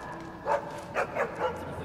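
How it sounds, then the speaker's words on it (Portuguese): A pitbull in the video game Assassin's Creed Chronicles: China barks four times in quick succession: short, sharp yaps over a faint, steady game background. "Isso é um pitbull"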